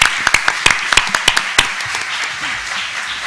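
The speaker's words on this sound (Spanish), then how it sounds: "les agradecemos con un aplauso" A few sharp, close hand claps ring out in quick succession at a conference on digital television, then fade after a second and a half into quiet room noise with faint murmuring.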